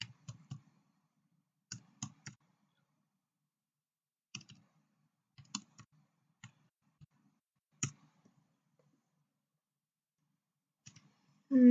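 Sparse keystrokes and mouse clicks while data is entered into StatCrunch on a computer, arriving in short irregular clusters separated by quiet gaps, close and soft, with no talking.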